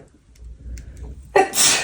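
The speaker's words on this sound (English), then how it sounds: "Oh no, I feel a sneeze coming." A single sharp sneeze bursts out near the microphone after a short breathy buildup, followed by a quick exhale.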